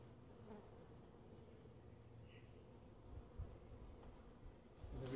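Honey bees buzz steadily in a low drone while being installed in a hive, with occasional louder passes and light handling noises.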